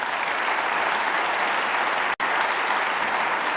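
A snooker crowd at the Players Championship applauds, sustained dense clapping that briefly cuts out midway before resuming, loud and steady with no talk over it.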